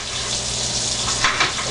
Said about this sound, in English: I'm going to turn the water on and let it get hot.